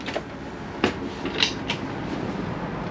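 A few wooden drawers on a Beneteau Antares 12 boat slide and knock shut in a quiet room, with soft bumps and clatters spread across a few seconds.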